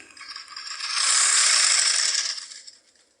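A sewing machine stitches a skirt seam along an existing stitch line, attaching a four-inch band: a close, rapid mechanical whirring that swells for about a second and a half, then tapers off, with no talking.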